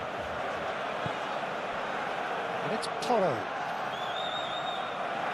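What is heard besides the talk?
stadium crowd reacting in a football video game simulation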